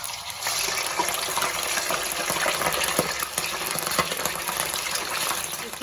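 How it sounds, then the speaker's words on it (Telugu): Fish pieces for pickle dropped into hot oil for deep frying, sending up a loud, steady, dense sizzle and crackle that holds evenly throughout, close by. "ఆయిల్ వేడెక్కింది. ఇప్పుడు మనం ఈ ఫిష్ పీసెస్ని వేసుకుందాం."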